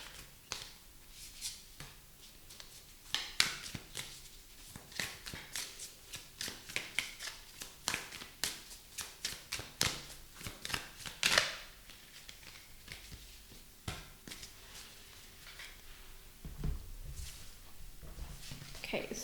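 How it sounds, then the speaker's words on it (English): Tarot cards being shuffled by hand for a pick-a-card reading, a run of soft riffling, slapping and rubbing bursts of varying length, close and fairly quiet, with no talking. "so let's shuffle again"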